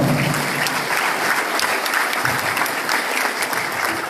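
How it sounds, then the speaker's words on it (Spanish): Strong applause from the assembled audience at a regional assembly of peasant patrols (rondas campesinas) in San Martín, welcoming a former judicial president to the stage; dense, steady clapping that carries loud and unbroken, with no talk over it. "a quien recibimos con fuertes aplausos"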